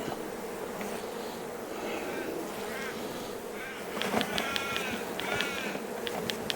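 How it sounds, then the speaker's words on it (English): Honey bees buzz in a dense, close swarm as frames from a honey-bound hive are shaken out, the droning growing louder and busier in the second half. "Going to take those frames and shake the bees into here"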